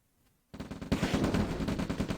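Rapid machine-gun fire from units attacking an oil derrick in the real-time strategy game Red Alert, bursting in loud and dense after a near-silent half second and rattling on without pause.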